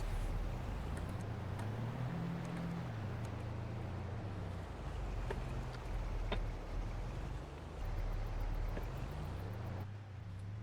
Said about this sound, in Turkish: Bu nasıl araba lan? Gaz veriyorum gitmiyor.